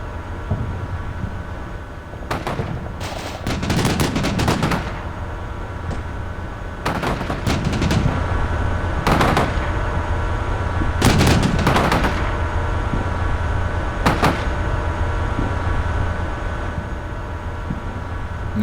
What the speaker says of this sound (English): heard some other forces under fire